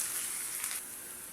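Garlic frying with onions in a pan gives a soft, steady sizzle, quiet and even, over a brief moment with no voices.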